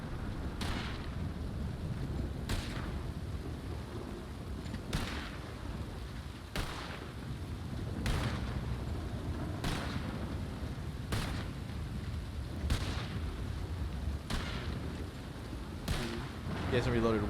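Repeated gunshots from a Red Dead RP shooting drill in a video game, about nine sharp cracks spaced every second or two over a steady low rumble, with a voice calling out under the firing.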